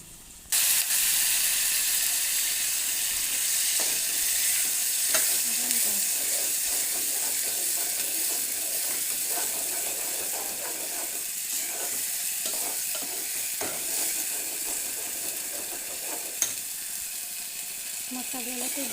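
Onion and spice masala for a jackfruit curry fries steadily in oil, a continuous close sizzle broken by scraping stirs and occasional clinks of the spoon against the pan.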